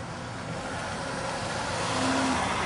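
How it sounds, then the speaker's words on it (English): A car passes by outside, its broadband road and engine noise swelling slowly and steadily louder toward the end, with no other sounds above it. "we've got a car coming"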